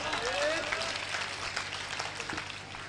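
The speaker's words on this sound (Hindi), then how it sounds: "जोरदार ताली बजाओ बस" A stage audience at a Hindi poetry show breaks into brief applause, with scattered claps and a crowd murmur under it. Talk is audible over the clapping.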